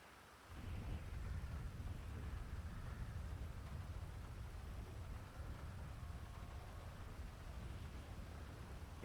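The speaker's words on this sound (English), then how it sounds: "Yeah, you can't go wrong with a good storm." A steady thunderstorm in GTA V roleplay: continuous rain hiss with a deep, rolling low rumble of thunder throughout, fairly faint and with no voices.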